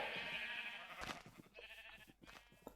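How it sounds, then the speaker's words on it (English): Noisy sheep bleating in the Minecraft video game, several overlapping blocky in-game bleats in quick succession at moderate volume, with no talk. "A lot of noisy sheep."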